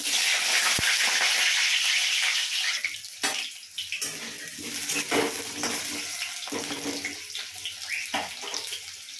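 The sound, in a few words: potatoes frying in hot oil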